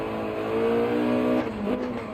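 A Mitsubishi Evo 3's 4G engine in Gran Turismo 7 holds a steady, loud buzzing drone at high revs, then blips sharply upward as the driver brakes hard and downshifts to second gear on the Nürburgring.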